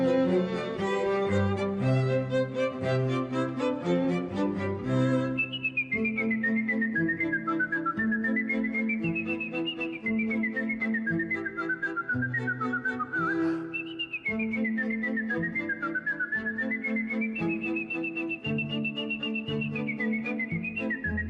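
A performer on a French television show whistles Mozart's Turkish March with a clear, bright, agile melody. A few seconds of accompaniment come first, then the whistled line dominates, loud and close.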